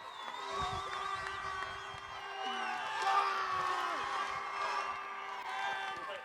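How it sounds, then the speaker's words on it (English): Crowd at an autograss national championship event cheering and whooping at a moderate distance, with scattered shouts and some clapping rising and falling over several seconds. "Listen to that crowd"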